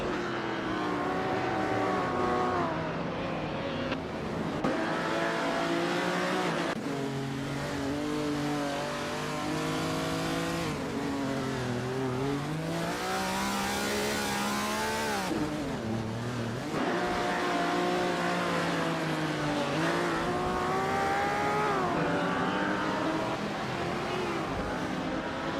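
1960s supercars race around the Circuito Sagalices in a video game, engines revving loudly and continuously with rising and falling pitch as cars accelerate and pass, no talk over the engine noise.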